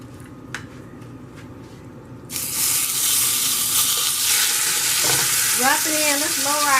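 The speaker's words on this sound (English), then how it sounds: "Hear that sizzle?" A patty melt drops onto a hot diner griddle and erupts into a loud, steady sizzle after a brief quiet stretch, with squeaky scraping sounds near the end.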